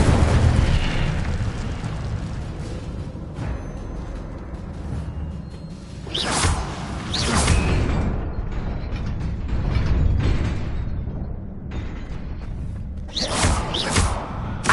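A fire spell is cast in the Hogwarts Legacy video game, with several sharp whooshing bursts over a steady, busy game-ambience bed, the loudest flares landing near the middle and again at the end.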